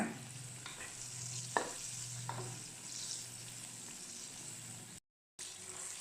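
Chicken karaage deep-frying in oil, a steady soft sizzle and bubbling with a few light clinks of stirring, close and fairly quiet, cut by a brief dropout near the end.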